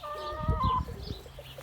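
Chickens cluck and cackle up close in a short burst of overlapping calls, with a brief rising crow-like note among them, as they are about to be fed fresh cabbage leaves.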